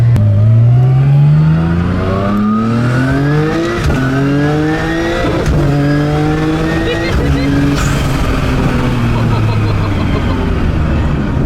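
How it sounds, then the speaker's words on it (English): A 700-plus horsepower all-wheel-drive car with a PPG sequential gearbox and rolling anti-lag revs hard, climbing through several quick upshifts without lifting, loud and close throughout, with brief talking over the engine noise. "an all-wheel drive 700 plus horsepower car with a PPG sequential"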